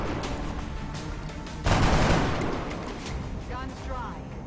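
Gunshots in the video game XCOM: Long War, a loud crack of fire with a rolling tail amid game sound, a voice speaking before it.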